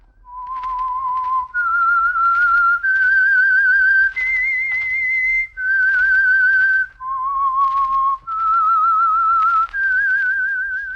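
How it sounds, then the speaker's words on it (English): A whistled theme melody for The Whistler radio drama, a 1948 Signal Oil program, rises and falls through a series of held, slightly wavering notes, clear and solo with short breaths between phrases. "That whistle is your signal for the Signal Oil program, The Whistler."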